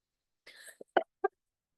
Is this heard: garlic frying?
no